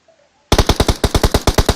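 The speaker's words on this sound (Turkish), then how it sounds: "Meriç'ten atışlar geliyor Enes'e." Rapid automatic gunfire in PUBG Mobile, a sudden loud burst of about a dozen evenly spaced shots after a brief quiet start.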